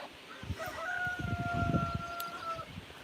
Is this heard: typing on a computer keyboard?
no